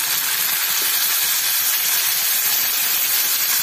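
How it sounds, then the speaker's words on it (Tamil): Onions sautéing in a pan while making sambar rice, a bright continuous sizzle with a steady hissing texture, close and fairly loud with no pauses. "இந்த வெங்காயம் நல்லா வதங்கியிருக்கு"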